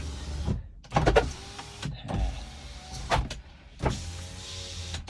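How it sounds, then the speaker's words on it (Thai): Electric power windows on a Honda Civic run up and down several times. Each pass is a motor whine that ends in a thump, and the strokes come one after another, close and clear, with no talking. "กระจกไฟฟ้าออโต้ใช้งานได้ครบนะครับ"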